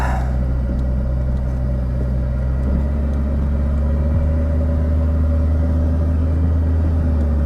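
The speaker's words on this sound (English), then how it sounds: "looks like everybody's ready to roll, and the Ram's tire is still patched up, so we're gonna see if we can make it to the highway" A Ram pickup truck with a patched tire pulling away from a hot springs campsite, steady low engine rumble and road noise heard from inside, constant and fairly loud throughout.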